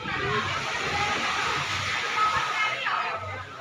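Waves crash on a beach at a seaside cafe, a steady broad surf wash with swelling surges, while someone speaks over it.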